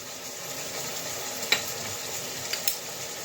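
Cumin, turmeric and Kashmiri chilli powder stirred in a hot pan for a kalibaush fish dish: a steady close hiss of frying with a few sharp scrapes of the spoon against the pan.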